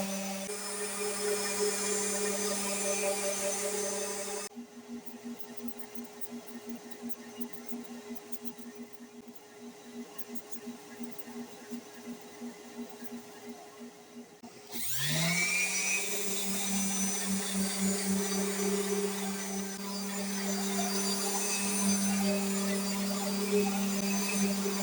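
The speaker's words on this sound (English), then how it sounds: "Here we begin the endless, soul-crushing progression of sanding from 80 grit up to 220" A loud, steady whine of a power sander working pallet wood inlaid with branches, with a drop to quieter grinding midway before the motor spins back up.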